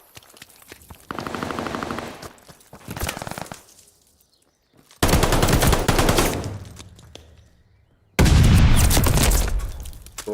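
Heavy automatic gunfire and explosive bursts from a Call of Duty match on a Hardpoint map, arriving in three loud dense volleys separated by brief lulls, with no talk over it.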